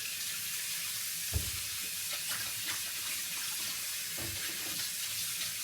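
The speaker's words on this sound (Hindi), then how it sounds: "Time for some washing dishes. तो अभी मैं बर्तन धोऊंगा" Running tap water pours steadily into a sink while dishes soaked overnight in hot water are handled, with a few soft clunks and knocks of crockery.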